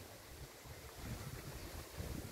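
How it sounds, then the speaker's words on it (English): Gusty outdoor wind buffets the microphone on a rainy, blustery day, a steady low rumbling roar that swells louder in the second half, with no talking. "it's pretty windy"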